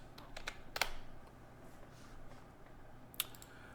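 A handful of sparse keystrokes on a computer keyboard while a passphrase is entered, faint clicks scattered across an otherwise quiet room, with one sharper tap near the start and another near the end.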